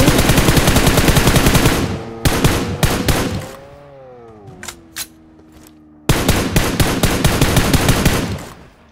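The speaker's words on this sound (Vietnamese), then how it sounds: "Bắn gì ghê vậy?" Video game gunfire: long, loud bursts of rapid automatic fire that break off into a quieter stretch of a few scattered shots and a gliding mechanical tone, then resume at full intensity. No voices are heard.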